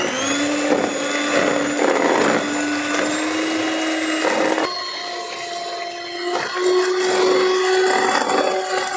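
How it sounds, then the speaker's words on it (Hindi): An electric hand mixer whirs through eggless vanilla sponge cake batter, a loud continuous motor whine whose pitch shifts slightly partway through, close up and uninterrupted, no speech. "मेरे पास ये हैंड ग्राइंडर है, हैंड मिक्सर, इससे हम कर लेंगे"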